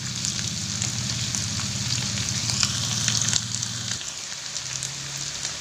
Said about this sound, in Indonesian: Kita masukkan bawang merah, bawang putih, kita tumis